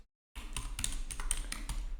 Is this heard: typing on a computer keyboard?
yes